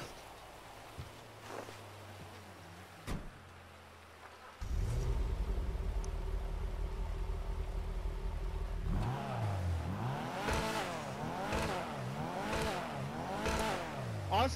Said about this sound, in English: The exhaust note is kind of American.